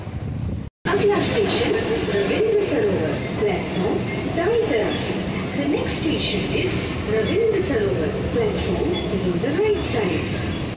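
A Kolkata metro train rides toward Rabindra Sarobar station with a steady rolling rumble and rattling carriage noise, a brief dropout near the start, and faint passenger chatter mixed under the continuous din.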